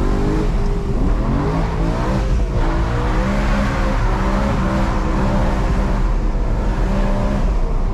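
Modified BMW E92 M3 heard from inside while driving, its engine droning loudly and steadily with rising and falling revs as it pulls through gears, no voices.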